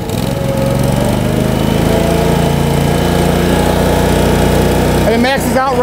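An RV power pack generator engine runs loud and steady at full throttle near 3600 RPM, a continuous close-up mechanical drone, with someone talking briefly near the end.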